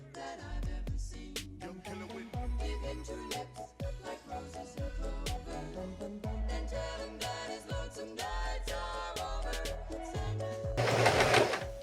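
A sewing machine stitches baggy jeans being remade into mom jeans, its motor running in rapid bursts with short pauses between runs, loud and close, over faint background music, with a brief louder rustle near the end.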